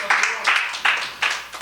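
A church congregation claps in a rhythmic pattern, four strong unison beats spaced evenly, echoing in the hall.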